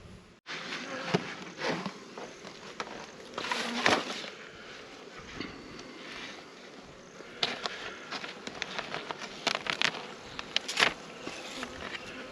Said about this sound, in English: So small amount of bees.